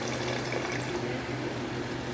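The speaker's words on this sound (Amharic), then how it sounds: "ውሃ ጨመር እያረኩኝ እንትን እላለሁ።" Water is poured little by little into a pan of cooking firfir, an Ethiopian dish of torn flatbread with salsa, giving a steady, close splashing flow throughout.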